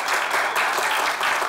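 A studio audience bursts into applause after a comedy sketch on a Turkish TV show, a loud, dense wash of clapping lasting a moment with no break.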